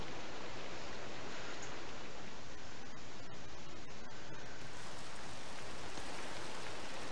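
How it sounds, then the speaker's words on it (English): Steady hissing rainfall in Minecraft, a constant broadband wash of rain noise at moderate level throughout, with no voices. "It's currently raining outside."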